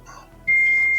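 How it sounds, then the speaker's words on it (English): A short electronic beep heard through headphones, a single steady high tone that cuts in abruptly and holds, with a faint voice-like murmur just before it. "I hear like a beeping or something like that in my headphone"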